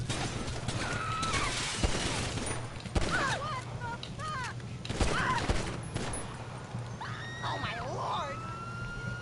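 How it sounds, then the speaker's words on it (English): GTA 6 gameplay gunfire, bursts of rapid shots recurring over a wailing police siren and a busy street din, with voices calling out between the volleys. "You were shooting at me."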